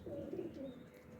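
A Teddy breeder female pigeon gives a soft, brief coo, faint and close.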